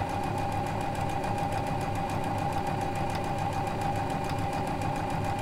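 Janome sewing machine stitching fabric with a 9mm lap-seam foot, running at a steady fast pace with a continuous mechanical hum and rapid needle chatter, close and unbroken throughout with no talking.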